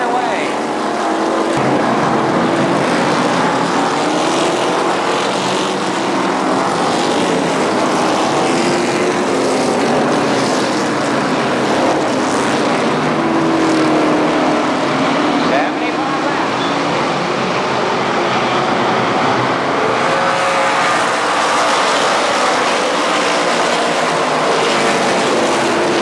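Race cars roar around the Columbus Motor Speedway oval at the start of the 75-lap Labor Day Championship, a loud, dense, sustained wall of engine noise with a crowd and announcer audible beneath.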